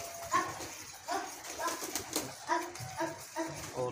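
Domestic pigeons coo in a steady repeating rhythm, several close, throaty calls following one another against low background noise.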